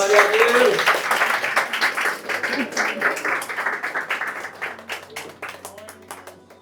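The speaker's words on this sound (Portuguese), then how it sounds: "Uma salva de palmas" A church congregation breaks into applause after a sermon prayer, dense clapping that swells loudly at first and then slowly thins and fades over several seconds.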